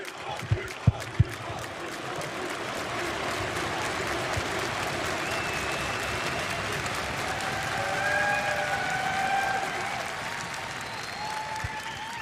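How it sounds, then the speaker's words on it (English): A large esports arena crowd applauds and cheers at the EU LCS Spring 2018 grand final between Fnatic and G2, a dense sustained roar with a few sharp claps at the start. "this reaction from the crowd pretty much sums it all up"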